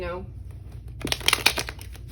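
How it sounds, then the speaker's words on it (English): Tarot cards get a quick shuffle, a short flurry of crisp riffling and flicking clicks up close after a brief moment of speech. "But let's get into this further with tarot. Everything's pre-shuffled, but just gonna give this a quick shuffle."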